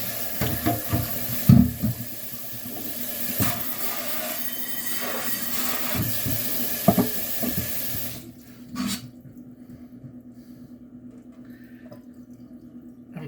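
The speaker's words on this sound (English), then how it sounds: "rinse off the items just like everything else" Dishes are rinsed under a running kitchen tap, a steady rushing splash with clunks of items being handled, until the water is shut off and only a faint quiet drip and room hush remain.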